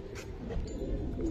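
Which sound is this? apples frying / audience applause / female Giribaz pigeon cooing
female Giribaz pigeon cooing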